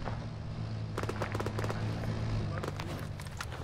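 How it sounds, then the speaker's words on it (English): Sharp gunshots go off in an ARMA military video game set in the Cold War era, a quick cluster of loud cracks around the middle and another pair near the end over a steady engine-like drone. "I fucking missed on that last shot"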